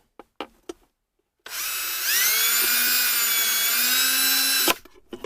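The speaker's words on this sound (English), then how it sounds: "We're going to drill it right underneath this mounting tab right here." A power drill bores a hole into a car's body beneath a mounting tab: a few short clicks and taps, a pause, then a loud continuous whining motor drone rising in pitch and holding for about three seconds before cutting off.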